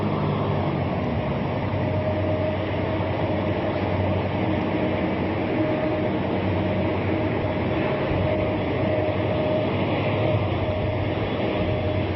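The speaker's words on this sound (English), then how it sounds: "got another train going by here." Train passing by near a bus museum yard in La Puente, a steady rolling rumble of rail cars that continues evenly at moderate loudness for the whole stretch, with no talking.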